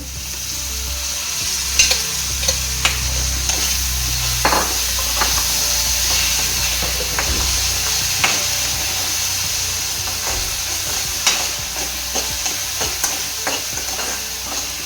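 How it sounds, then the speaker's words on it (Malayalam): Tomatoes sizzle and fry in a pan for a tomato rice dish, with steady frying hiss and scattered clinks and scrapes of stirring throughout, close and fairly loud. "ഇനി നമുക്ക് നമ്മുടെ തക്കാളിക്കുട്ടൻ ഇതിലോട്ട് ഇട്ട് കൊടുക്കാം."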